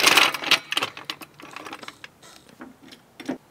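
A car jack cranked under a car's jacking point to lift a flat-tire wheel off the ground, producing a rapid series of light mechanical clicks and ratchets, close up, with no talking.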